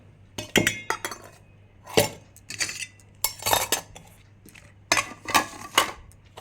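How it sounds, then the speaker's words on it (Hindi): Dishes, cutlery and glassware gathered up after a meal, with bright clinks and clatters in irregular bursts, close by, no talking. "चलो दोस्तों खाना वाना खा लिया है, बर्तन को समेट देती हूँ।"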